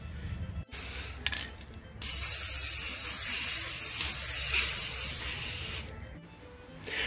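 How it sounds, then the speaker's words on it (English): An aerosol can sprays a matte clear enamel protective coat over a homemade pirate ship model. Brief hissy bursts come first, then a continuous, close, steady spray hiss lasts about four seconds before a short final puff. "I'm going to spray paint a matte clear enamel over it."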